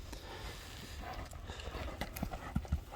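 A horse runs across soft ground in a rapid, uneven run of dull hoof thuds that grow heavier toward the end, fairly faint, against rustling outdoor background.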